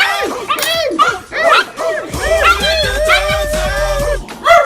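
Several dogs just let out at a house bark, yip and whine loudly and close by in rapid overlapping bursts, with a person talking among them.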